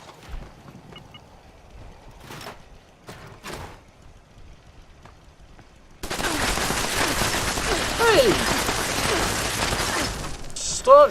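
Rapid bursts of gunfire in Fallout 76 erupt halfway through, a dense, loud, continuous barrage following a quieter stretch of scattered thuds and clicks.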